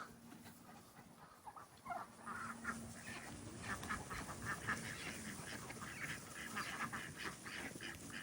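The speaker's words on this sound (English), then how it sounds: "That's why I like Indian runner ducks." Indian runner ducks quack repeatedly in a lively overlapping chorus, moderately close, with a steady murmur of outdoor background and no speech.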